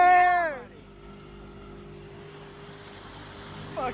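A small fishing boat built on a budget cruises along on the water, its outboard motor holding a steady hum under wind and water noise, after a brief burst of a shouting voice at the start.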